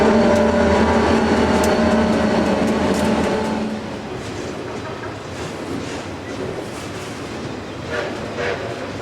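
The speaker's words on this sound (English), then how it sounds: "A Union Pacific freight train rolls past Niles Station while we're waiting for the passenger train to arrive" A Union Pacific freight train rolls past Niles Station, a loud, continuous rumble of wheels and cars with faint clicking, easing slightly partway through.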